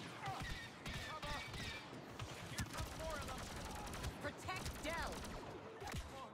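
Overcharged blaster shots crack repeatedly during a Star Wars Battlefront 2 battle, mixed with busy combat noise and a voice talking over the action.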